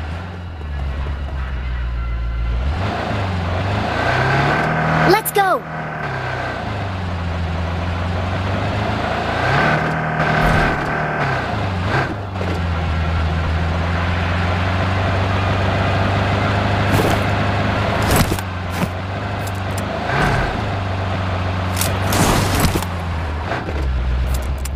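A car engine in PUBG Mobile drones steadily and loudly while driving, revving and shifting pitch with occasional bumps and clunks, and a voice speaks briefly over it.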